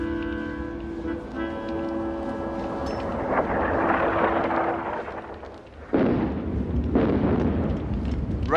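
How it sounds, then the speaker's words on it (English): Artillery ranging shots going off in a World War I battlefield scene, deep rumbling booms with a low drone early on, then two abrupt, loud blasts near the end, heavy and fairly close. "Ranging shots."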